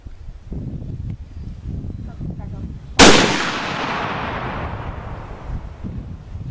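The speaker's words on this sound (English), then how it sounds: "I'm going to shoot at the target again." A single sharp gunshot fired at a target cracks out loudly at about three seconds and rings off in a decaying tail, with people talking quietly before it.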